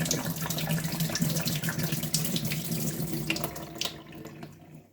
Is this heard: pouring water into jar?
yes